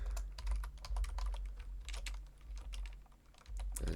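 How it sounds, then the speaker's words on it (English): Fingers type on a computer keyboard, close and clear, in quick irregular bursts of keystroke clicks over a low background hum, with no one talking. "We're going to type in between space."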